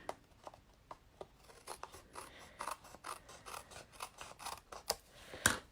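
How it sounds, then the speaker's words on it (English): Scissors snip through card stock during card making, a close series of crisp cuts in an irregular rhythm that grows slightly busier toward the end, with no talking. "I'm going to go ahead and cut this section."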